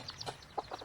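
Baby chicks give a few short, high peeps, faint and close, scattered across a brief quiet moment on a farm.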